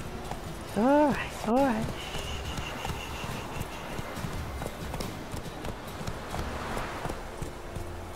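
Horse hooves clip-clopping in The Witcher 3 video game, a steady trotting beat running close and clear throughout, with a brief whinny-like tonal burst early on and someone talking over it.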